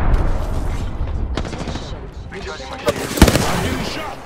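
Gunfire in the battle royale game Apex Legends, a rattle of rapid shots and a few sharper bursts near the end, heard under a talking player's voice.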